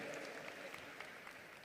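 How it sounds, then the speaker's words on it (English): Applause at a formal summit dinner, a dense patter of many hands clapping continuously and fairly evenly for a short stretch, faint and distant in the room. "So give round applause"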